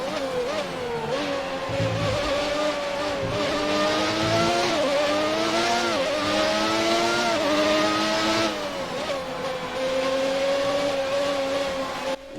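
Race cars from the F1 2019 video game at Rascasse, Monaco, roar continuously as they jostle to overtake, high engine notes rising and dropping through shifts and revs over about twelve seconds, loud and steady with no talk.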